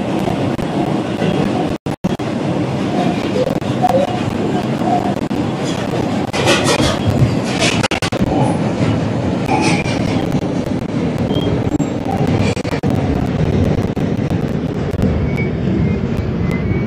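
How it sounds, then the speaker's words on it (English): An R142 subway train on the Eastchester-bound 5 local runs steadily, with a continuous loud rumble, rail clatter and bursts of wheel screech, near and sustained throughout. "Is an Eastchester bound 5 local train."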